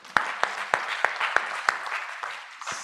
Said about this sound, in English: Can we give a hand of applause to us?